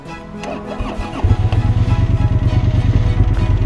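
A liquid-cooled, six-speed, belt-driven motorcycle of about 750 pounds cranks briefly, then catches and settles into a loud, close, steady idle with a rapid, even pulsing beat and no talking.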